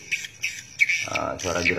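A self-recorded swiftlet mating call sounds as a few sharp, squeaky chirps in quick succession. A low voice begins talking underneath partway through.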